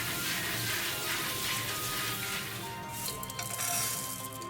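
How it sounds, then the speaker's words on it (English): Boiled red beans are rinsed under running water, a steady hissing splash from a tap filling and pouring over the beans, continuous and fairly close with no talk. "Throw away the hot water and wash the red beans."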